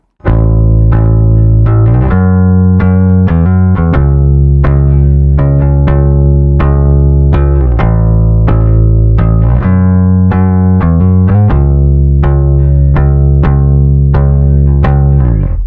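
A bass guitar through a distortion pedal plays a steady riff of repeated low notes, loud and thick with fuzz, with no voices.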